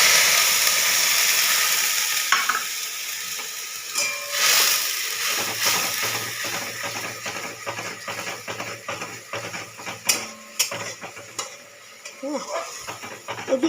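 Garlic, sour yogurt and green chili fry in a pan, a bright sizzle with steady stirring scrapes and clinks that come close and loud for about fourteen seconds.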